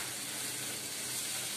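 Cashews fry in a pan for a mushroom gravy, giving a steady, dense sizzle that holds evenly throughout at moderate loudness with no talk.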